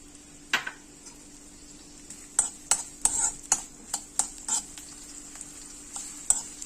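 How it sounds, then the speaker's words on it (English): Diced onions frying in heated desi ghee in a kadai for a tadka: a steady soft sizzle broken by several sharp spoon clinks and scrapes against the pan, close and fairly quiet. "The moment it gets heated up, we will add diced onions."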